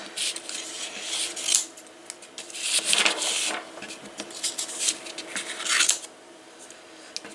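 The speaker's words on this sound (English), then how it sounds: "Just going to cut a bit off." Scissors snip through paper while crafting a chipboard frame, producing several crisp, close cutting bursts with rustling of the paper between them.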